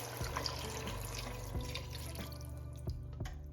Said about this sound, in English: So we're going to add in the chicken broth.